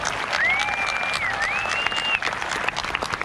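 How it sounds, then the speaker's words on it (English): A crowd gives applause for the National History Day office staff led by Dr. Kathy Gorn, sustained dense clapping from many hands, with a bright whistle-like tone sliding through the middle. "I really want all of us to give a round of applause to"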